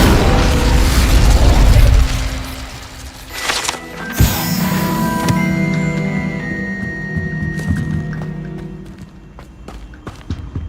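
Incendio fire spell cast in the Hogwarts Legacy game: a loud burst and crackling whoosh with mechanical clanks, a sharp impact near four seconds, then fading rumble and scattered clicks amid game effects.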